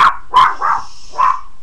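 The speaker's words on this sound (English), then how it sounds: "Somebody must be outside and the dog's barking at them" A dog gives three or four short, sharp barks at someone outside, spaced unevenly and fairly close, indoors with no talking.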